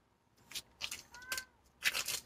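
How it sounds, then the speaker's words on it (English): Seventeen-year-old cat grumbling and meowing, several short, fairly faint vocal bursts in quick succession, one with a rising meow-like tone, in a quiet room. "17-year-old cat. That just walked in the room and started... grumbling."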